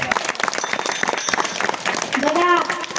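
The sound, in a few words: audience applause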